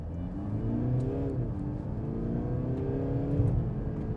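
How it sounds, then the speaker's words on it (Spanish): A Mercedes GLC 220d 4Matic turbodiesel accelerates in sport mode, its engine note climbing, dropping briefly at a shift, then rising again. The drone is steady and moderately loud, heard from inside the car. "lo vamos a colocar en modo sport, y voy a mostrarle un poco cómo acelera"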